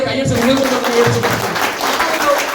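An audience at a motivational business talk claps together in a dense, steady round of applause mixed with a speaking voice over it.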